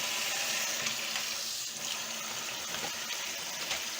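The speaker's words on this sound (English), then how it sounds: "And it has been rinsing." Steady running water splashes and gushes into a bowl of bulgur wheat, a continuous rinsing sound with no voices.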